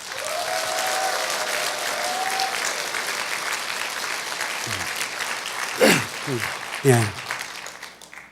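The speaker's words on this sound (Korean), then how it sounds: "그래서 한번 우리 큰 박수 한번 하겠습니다." Church congregation clapping during a revival service, a broad wash of applause through the first half that fades under a voice and a few short spoken exclamations.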